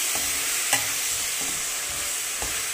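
Tomatoes fry and sizzle in a pan for a tomato and moringa leaf curry, a steady loud hiss broken by a few soft stirring knocks, with no voices.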